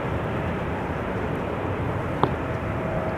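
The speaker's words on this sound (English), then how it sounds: "This is KLM flight 565 to Nairobi in Kenya" A KLM Boeing 777-300 bound for Nairobi departs Amsterdam Schiphol, its engines giving a steady, broad roar with one brief click partway through.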